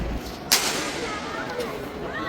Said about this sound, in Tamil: நீங்கள் வந்ததுக்கு இப்போ பட்டாசு வச்சாங்க